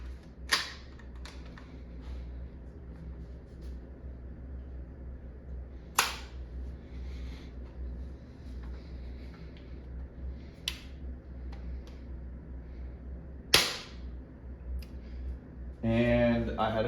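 A Valken M17 marker firing shaped projectiles at 800 psi gives three or four sharp, fairly faint pops spread several seconds apart over a low steady background hum, with mechanical rattling near the end.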